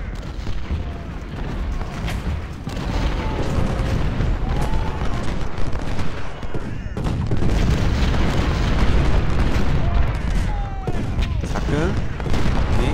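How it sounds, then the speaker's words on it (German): Cannon broadside fire in the Civil War battle game Ultimate General: Civil War at Stones River, with heavy booming volleys and rolling explosions layered throughout, loud and continuous, under scattered battle noise. "Dann die Kanonen, volle Breitseite, weiter auf das Zentrum"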